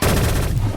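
A P90 firing in the Shell Shockers video game: a fast, continuous burst of rapid gunshots, loud and close, lasting under a second.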